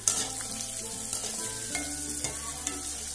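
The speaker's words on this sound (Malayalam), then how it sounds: "നമുക്കിതൊന്ന് ഇളക്കിയിട്ട് കൊടുക്കാം." Raw yam pieces fry in oil in a pan, giving a continuous bright sizzle with soft stirring scrapes and small knocks at intervals, close by and without speech.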